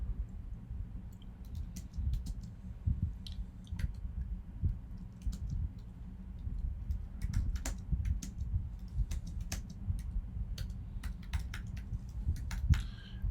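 Steady keyboard typing while writing code on a computer, a continuous run of light clicks and taps under a low background hum, close and fairly quiet throughout.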